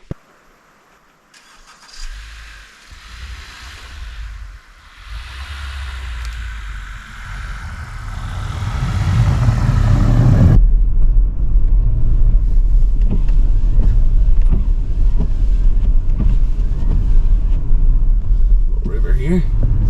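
A vehicle drives up a snowy road, its low engine rumble starting quietly and growing steadily louder and heavier about halfway through, continuing as a close, constant drone.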